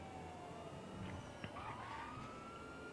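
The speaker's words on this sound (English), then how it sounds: "Jeez, these cop noise sirens are just everywhere" Police car sirens wail faintly in the distance, heard from inside a moving Bollokan Envisage car, with rising and falling tones sweeping over a quiet background hum.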